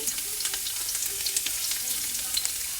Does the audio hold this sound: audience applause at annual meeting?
no